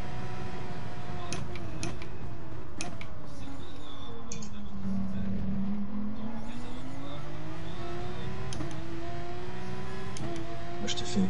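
Onboard a racing car in a sim-racing qualifier, the engine drones and its pitch dips then climbs again as the car accelerates out of a corner, with clicking noises and speech over it.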